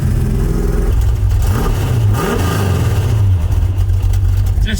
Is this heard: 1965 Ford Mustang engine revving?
yes